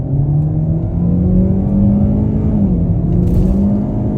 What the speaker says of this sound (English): Off the line, sport, and on the gas.